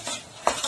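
A spoon stirs rice payasam in a pot, giving a brief scrape and clink near the end of a short, quiet moment, with a second softer knock just after.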